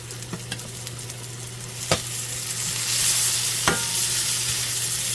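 Burgers and fries frying in a pan, turkey smash burgers with Havarti cheese, give a steady broad sizzle that swells slightly partway through, with a couple of sharp stirring or utensil clicks over the hiss and no talking.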